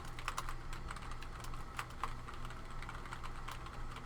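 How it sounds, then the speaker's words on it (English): Random gibberish tapped out on a computer keyboard, a quick uneven run of soft key clicks, close and fairly quiet, with no one talking. "We'll just type in some random gibberish down here."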